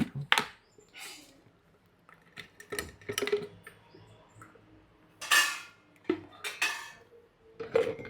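Lentils and oil being stirred in a cooking pot for a red lentil dish, with scattered scraping and clinking of a metal spoon against the pot, quiet and uneven taps with gaps between.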